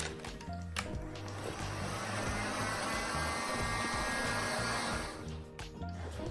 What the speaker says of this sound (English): I'm going to activate the glue a little bit with the heat.